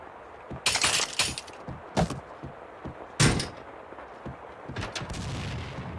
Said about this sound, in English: The sound of an explosion came from the direction of my apartment.